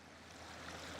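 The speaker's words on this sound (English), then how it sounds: "river flowing down there" Floodwater rushing as a river past a flooded farm near a house and field, a steady broadband wash of flowing water that holds constant and fairly close throughout, with no voices.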